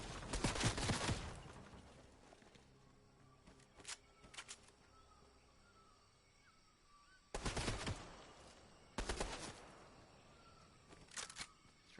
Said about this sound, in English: There's somebody behind me trying to shoot me.